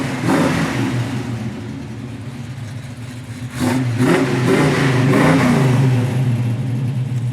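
A big block 1970 Chevy Nova engine revving close by, a deep steady rumble that surges louder partway through and holds at a throaty roar.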